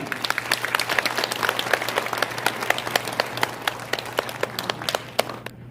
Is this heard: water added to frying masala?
no